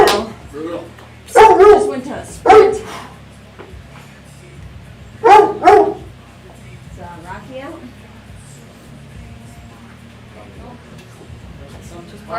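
A dog barks in loud bursts, a pair early, then a single bark, then another close pair, with quieter yips and low background hum between.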